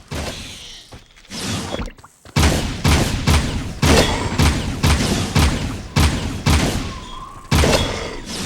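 Rapid punches and gunfire from the Jak II video game come in repeated loud, punchy bursts with thuds and booms, separated by short gaps.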